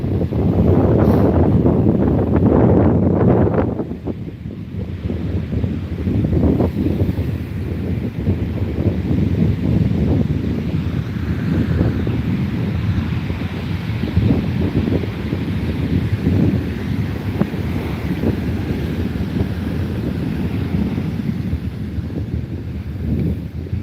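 Ocean waves wash onto a beach in steady wind, a loud, continuous broadband roar with gusty microphone buffeting and a heavier surge in the first few seconds, no voices heard.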